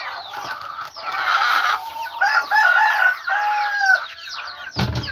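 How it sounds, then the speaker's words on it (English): Chickens and chicks on a farm cluck, chirp and squawk in a busy overlapping chorus close by, with one louder clattering thump near the end. "give some of these chicks some feed"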